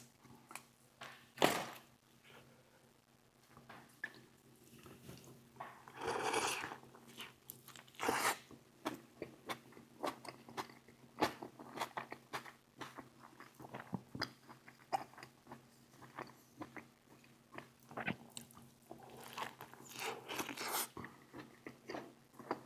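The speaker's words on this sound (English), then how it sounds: "but I like the crunch of cabbage" Crunchy chewing of a Del Taco burrito with cabbage, close up, with repeated bites and crisp crunches running unevenly over about twenty seconds, with no talking.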